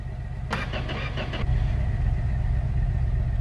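A car engine cranks with a few rapid starter pulses, then catches and settles into a steady, loud idle close by.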